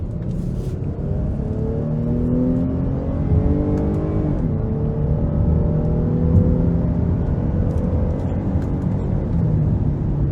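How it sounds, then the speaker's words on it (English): A 2015 Dodge Durango Limited AWD with a V6 engine accelerates hard up an interstate on-ramp, its engine note rising steadily through the gears in a sustained, close, droning pull with road noise underneath. "So I'm gonna try to give it a pull getting on the interstate here."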